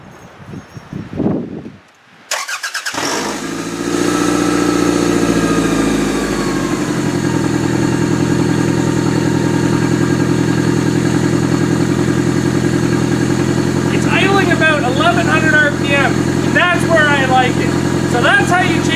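A 1993-2002 Toyota Camry demolition derby car, its cruise control removed and throttle cable reattached, cranks and fires up, then settles into a steady, loud idle that drones on evenly nearby.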